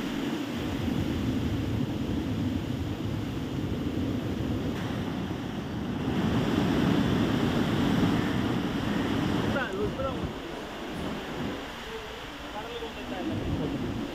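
Rough sea surging over the sand during Cyclone Mandous at Marakkanam, Villupuram, with constant roaring waves and heavy wind buffeting the microphone for about fourteen seconds, loud and continuous.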